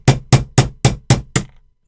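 Six sharp metallic hammer blows at a steady, even rhythm knock a roll pin out of a Sig P320 pistol during an armorer's action job install, loud and close with no talking.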